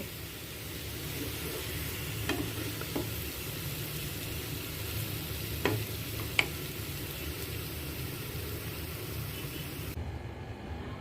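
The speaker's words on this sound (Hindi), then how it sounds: "इस तरीके से हम इसको मिक्स करते जाएंगे। और इसको ढककर कम सेक पर पकाएंगे।" Taro root masala stirred and fried in a pan, giving a steady close sizzle with a few sharp scrapes of a spoon against the pan; no one speaks.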